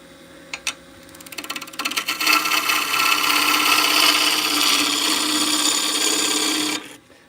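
A sharp gouge cuts Tree of Heaven wood spinning on a lathe, starting with a few scraping catches and then settling into a loud, steady shearing hiss before stopping abruptly.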